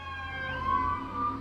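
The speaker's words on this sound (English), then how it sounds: "And that was the ambulance going by." An ambulance siren wails past, its rising and falling tone clear and moderately loud over a low traffic rumble, with no talk.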